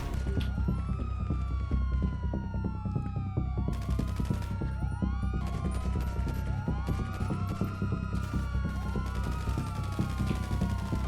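Wailing police car sirens from GTA V, several overlapping rising and falling sweeps repeating steadily over a dense, loud game mix with engine rumble and occasional sharp bangs, continuous throughout.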